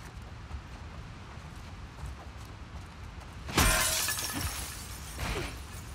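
Glass shatters loudly in The Last of Us Part 2, a sudden sharp crash about midway through, followed by tinkling fragments and a smaller second crunch, set against a quiet, low ambient background.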